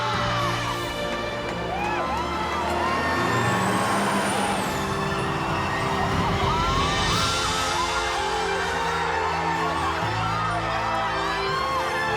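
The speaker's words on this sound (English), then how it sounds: "Bus driver, move that bus!" A large bus pulls away at a home makeover reveal, with a hiss of air brakes and a rumbling engine. A loud crowd cheers and whoops continuously over it.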